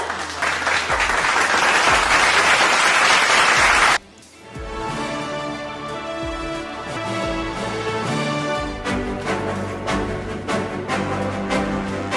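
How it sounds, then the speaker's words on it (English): A formal launch event audience applauds loudly and steadily for about four seconds, then the clapping drops away as music with sustained tones takes over for the rest. "Can we please have a great and warm round of applause?"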